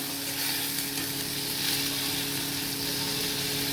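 Spice paste fries in oil in a pan for an okra curry, a continuous close sizzle and hiss holding steady over a low background hum, with no voices.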